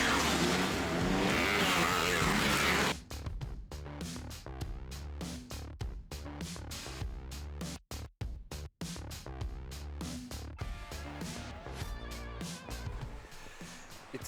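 Car driving along a road on the island of Gozo, Malta, with a steady engine and road rumble running throughout, close and fairly loud, with a few brief dips and shifts in the noise.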